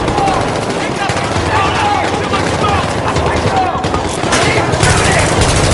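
Sustained automatic gunfire in a Battlefield 3 firefight, rapid overlapping bursts of rifle and machine-gun shots, loud and close, rattling on without a break throughout.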